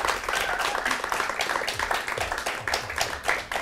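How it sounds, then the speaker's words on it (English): A television game-show studio audience breaks into a round of applause: dense, lively clapping from many hands, loud and continuous for several seconds with no voices over it. "Give him a round of applause."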